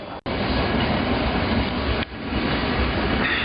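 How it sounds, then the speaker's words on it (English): A freight train roars past at night through a college town, a loud continuous rumble with rattling wagons and one brief break in the din. "train blazes through my old college town"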